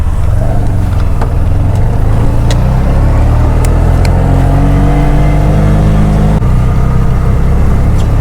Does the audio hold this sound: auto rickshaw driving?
yes